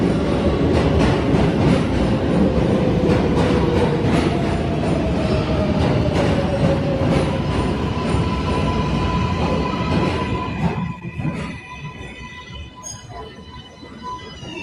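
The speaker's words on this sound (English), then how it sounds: "It sounds like a subway car is coming." Subway train rumbling loudly on the rails as it approaches, a steady rolling roar with rhythmic clatter and a rising tonal whine that gives way to a quieter, ringing tail near the end; no talk.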